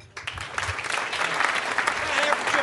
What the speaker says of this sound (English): Applause for Ritch Shydner.